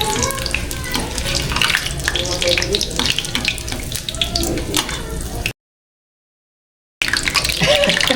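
Food fries in cooking oil with a close, crackling sizzle and scattered spits and pops, steady and loud, cut off by a brief silent gap before resuming.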